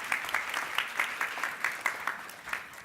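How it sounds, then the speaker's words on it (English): Applause for Nigeria's Minister of Health at a public health forum, a light spattering of claps with distinct individual hand strikes, modest in volume and fairly sparse rather than a full roar. "Please give him a warm round of applause as he makes his commitment."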